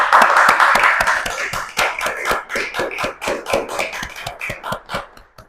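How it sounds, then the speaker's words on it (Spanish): An audience applauds a guest at an art talk, starting as a thick burst of many hands and thinning into distinct rhythmic claps that fade toward the end. "Un aplauso, por favor,"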